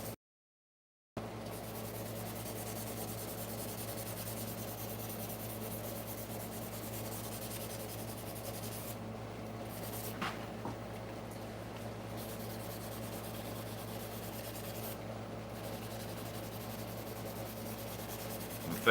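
A steel punch is hand sanded very lightly with used 1000 grit sandpaper, producing a steady close hiss of rubbing that runs unbroken after a brief silent start.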